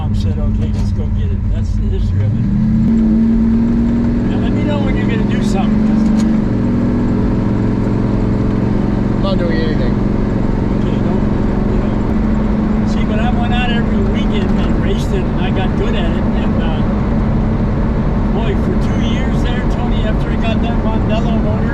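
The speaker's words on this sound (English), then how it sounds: "I told John, I said I don't want to blow the engine up" An old car's engine runs steadily through a ride, a low droning hum that briefly rises in pitch as it revs, with people talking over it throughout.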